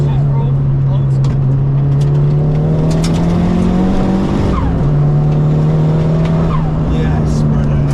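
A 307-brake-horsepower big-turbo Toyota Starlet GT Turbo Glanza hot hatch pulls hard with a steady, loud engine drone that climbs in pitch through the gears, with a brief shift break midway and faint voices underneath.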